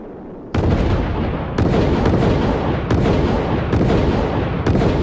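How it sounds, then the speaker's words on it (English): Project Orion test vehicle going off in a series of loud, harsh blasts, five or so explosive bangs in quick succession over a continuous roaring rumble, close and dominating with no talk. "There's a film that shows this thing going bang, bang, bang, and up it goes a ways."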